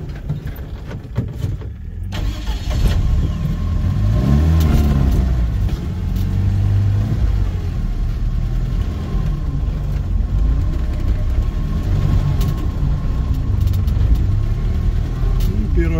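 An off-road vehicle in low range with its front differential locked crawls through clay, its engine droning loud and steady throughout, with someone talking over it.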